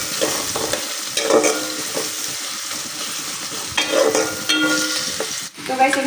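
Whole garam masala and onion frying in a pan for aloo dum, a steady close sizzle with stirring clatter and scraping spoon strokes throughout, no talk.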